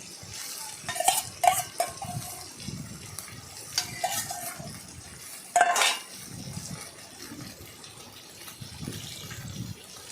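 Pieces of fish for a mixed fish curry being stirred in a pan, with intermittent spatula scrapes and clinks, soft wet shuffling, and a few sharper metallic knocks, close and fairly quiet, no voices.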